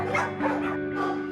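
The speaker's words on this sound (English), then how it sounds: "her barking has pushed potential adopters away while also provoking other dogs" A fearful female shelter dog barks and yips in a kennel setting, with steady repeated vocalizations close to the microphone and a constant hum behind them.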